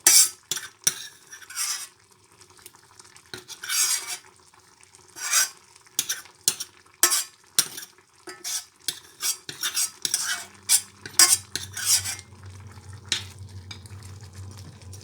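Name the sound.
stirring lentils in a frying pan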